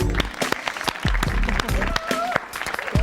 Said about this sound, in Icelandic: við skulum gefa skurðlækninum og aðstofafólki hans gott klapp